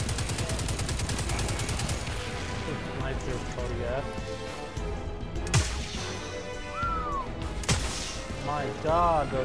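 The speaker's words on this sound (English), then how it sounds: "the sound of the sniper is awesome" Sniper rifle shots in the Destiny 2 Homecoming beta, fired by a Hunter, ring out as a few loud, sharp cracks spaced seconds apart amid rapid mechanical game effects and someone talking throughout.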